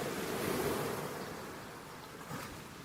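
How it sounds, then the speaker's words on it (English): Recorded ocean waves play as a steady, broad surf wash during a break at a high school volleyball event, continuous and fairly soft with a gentle swell partway through. "we're going to turn the waves off."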